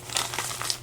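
Plastic packaging crinkles and rustles in short crackling bursts while a package is opened by hand at an unboxing, close and fairly loud, with no talking.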